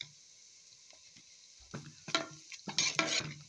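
Onions and garlic sauteing in a pan, a quiet sizzle broken by several sharp stirring scrapes and clinks of a utensil against the pan, growing louder toward the end.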